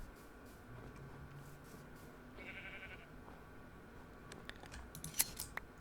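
A sheep in Minecraft gives one short, faint bleat amid quiet in-game ambience, followed by a few soft clicks and snips near the end.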